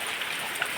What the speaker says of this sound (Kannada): ಬರ್ತಾ ಉಂಟು ಮಳೆ